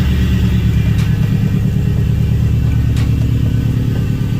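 A car engine running rich at idle, with a fuel line check valve just fitted, gives a loud, steady, close-up low rumble with an even pulsing throb and no talk.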